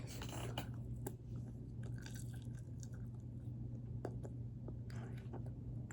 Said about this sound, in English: I'm gonna eat these whole fries